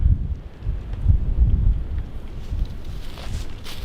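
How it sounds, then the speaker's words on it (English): Wind gusting through a forest on a cold day, a loud low rumbling buffet across the microphone that rises and falls continuously, with faint rustling above it and no voices. "Not cold, it's windy."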